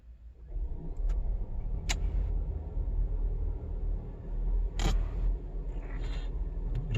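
A Volvo V60 Cross Country wagon starting up, a low steady engine rumble that settles into idle, with a few sharp clicks and ticks from inside the cabin over it.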